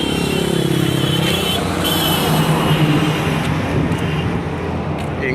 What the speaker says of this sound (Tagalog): Ingay nung busina nung bus.